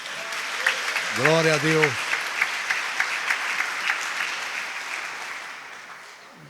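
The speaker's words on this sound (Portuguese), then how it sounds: "Dê um aplauso ao Senhor." A congregation claps at a prayer service led by an apostle, with a brief spoken exclamation over the start of the applause, which then fades gradually.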